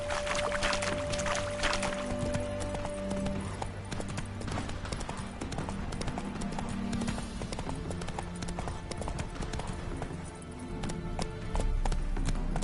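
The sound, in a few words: horse hooves, from video game Witcher 3 Hearts of Stone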